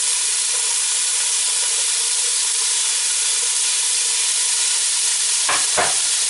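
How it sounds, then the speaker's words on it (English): Diced celery and carrots sizzle in a hot pan, a steady bright hiss of frying, with two brief scraping stirs near the end. "we're just going to saute this for just a few moments, just so they get a little bit tender"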